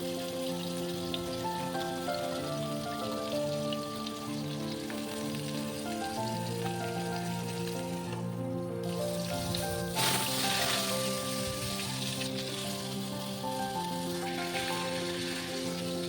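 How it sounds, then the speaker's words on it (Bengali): A fish head rubbed with salt and turmeric fries in a little oil in a kadai, giving a steady, soft crackling sizzle beneath continuous background music. "এরপর কড়াইতে একটু তেল দিয়ে মাছের মাথাটা ভেজে নেব।"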